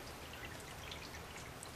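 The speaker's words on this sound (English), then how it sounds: "it's raining a little bit today" Light rain falling outdoors, a soft, steady patter of small drops spread evenly with no clear individual hits, faint and continuous with no voices.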